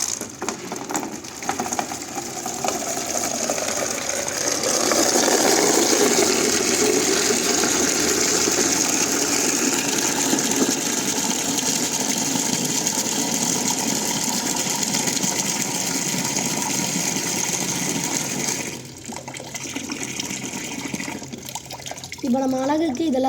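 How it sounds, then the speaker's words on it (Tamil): Water pours steadily into a plastic tub being turned into a fish container, a continuous close gush for about twenty seconds before tapering off, with a brief break near the end. "இப்போ இதில் தண்ணி ஃபில் பண்ணிக்கலாம்."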